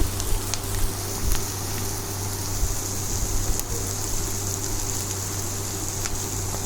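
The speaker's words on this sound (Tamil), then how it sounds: "ஆனியன் நல்லா வதங்கிடுச்சு" Chopped onions sautéing in a pan for a brinjal bharta, giving a steady, moderately loud sizzle with faint crackles throughout and no talking.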